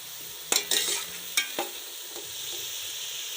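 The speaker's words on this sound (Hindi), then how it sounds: "हल्की आंच हम लोग इसे भून लेते हैं जी" Whole spices such as cumin roast over low heat in a pot for chicken biryani, a faint hiss broken by a few sharp clinks and scrapes from a stirring spoon.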